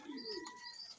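Soft pigeon coos close by as the pigeons feed, a low rolling call with faint chirps in the background, no talking.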